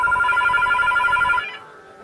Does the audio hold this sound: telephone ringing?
yes